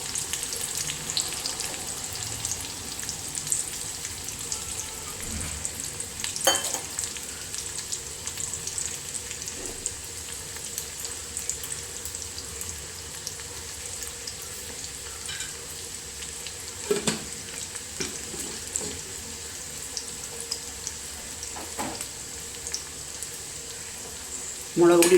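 Food fries in a pan with a soft, steady sizzle running throughout, broken by occasional scrapes and clinks of stirring, with faint background noise.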